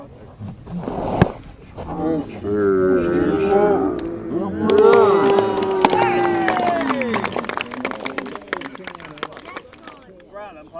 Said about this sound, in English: A massive round of applause for Grant